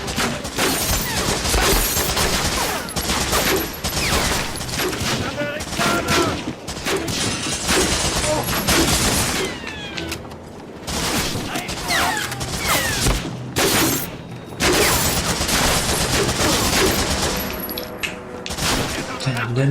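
Medal of Honor gunfire: steady loud volleys of rifle and machine-gun shots with occasional crashing and clattering mechanical noise, nearly constant throughout, with someone talking over the battle.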